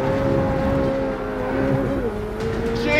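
A McLaren supercar engine drones steadily, dips briefly, then climbs in pitch as it accelerates, heard from inside the car with no talking.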